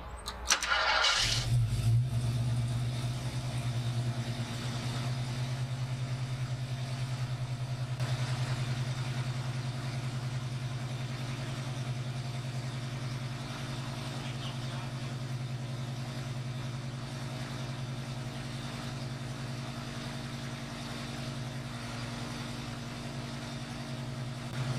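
A 1974 AMC Javelin's 304 V8 cranks and catches with a loud burst, then settles into a steady, even idle that rumbles on unbroken for the rest of the stretch.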